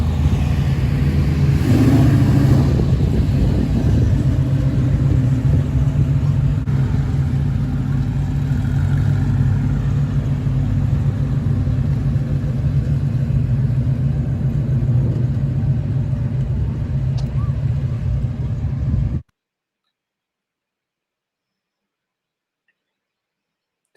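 A collection of cars including a Camaro rumbles with low engine drone and occasional revving, loud and continuous for about nineteen seconds before cutting off to silence.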